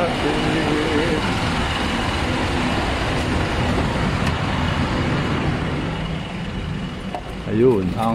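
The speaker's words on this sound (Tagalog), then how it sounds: "Traffic." Heavy road traffic on Recto Avenue in Manila rumbles as a dense, continuous wash of car, truck and bus engines, close and loud, with a brief horn-like squeal near the end.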